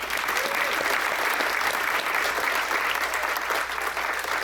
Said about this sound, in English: let's give a round of applause for all three